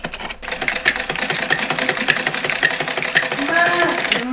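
A sewing machine stitches fabric while hemming a shortened dress, running as a fast, steady mechanical chatter of needle strokes that carries on throughout at close range.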